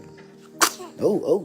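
A single sharp, close sneeze bursts out, then a person speaks softly in short phrases.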